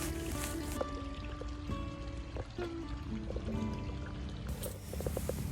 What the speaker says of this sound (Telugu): ఇలా ఒక్కొక్క బిట్కి వాటర్ పెట్టుకుంటూ వస్తున్నారు